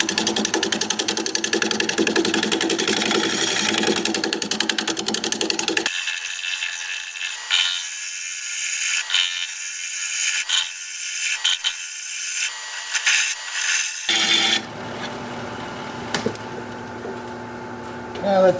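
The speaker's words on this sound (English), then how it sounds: "I'm going to shear scrape the side here a little bit" A wood lathe spins a bowl while a tool shear-scrapes its side, producing a continuous harsh scraping hiss over the motor hum, with a change in tone midway as the cut varies, loud and close.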